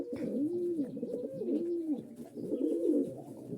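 Pigeon cooing close by, three rolling, throaty coos repeating in a steady rhythm, with no talk over them.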